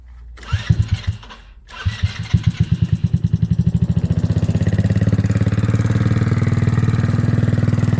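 A Twister Hammerhead go-kart engine after restoration and a jet upgrade cranks with a couple of pulls, catches and chugs unevenly, then settles into a loud, steady, rapid idle close by.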